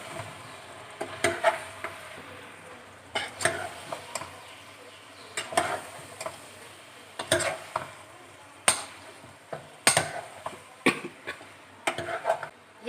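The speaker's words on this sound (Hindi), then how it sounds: "वो इसके अंदर हम डाल देंगे और इसको अच्छी तरीके से मिक्स कर लेंगे" Potato and capsicum curry being stirred in a pan, with a spoon clattering and scraping against the metal in irregular bursts over a soft background sizzle, close and moderately loud.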